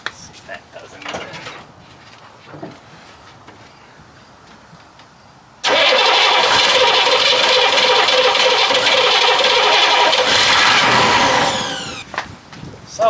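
A Chevrolet K5 Blazer diesel engine cranks in the cold with too few glow plugs working. After quiet handling noises, the starter whirs loudly and steadily for about six seconds, then winds down without catching.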